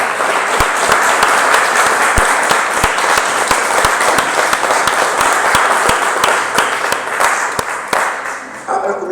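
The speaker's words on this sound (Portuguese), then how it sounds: "Você pode aplaudir o Senhor nessa noite?" A church congregation applauds together during an evening service, a dense, steady wash of many hands clapping at close range that fills the whole span and thins slightly at the end.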